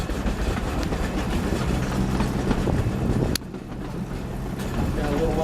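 A small live steam model train runs steadily with a rattling, clicking rumble, briefly dipping partway through, while faint voices murmur in the background.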